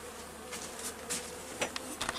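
Honey bees buzzing around beehives during late-summer feeding before wintering, a steady close drone with individual bees passing by the listener, no talking.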